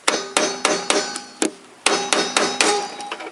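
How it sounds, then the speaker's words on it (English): Sharp metallic hammer strikes on a stuck part of a Toyota Corolla cabin intake blower ring out one after another at a steady, even pace, loud and close, with a brief pause midway. "I need again a little bit hammering in here"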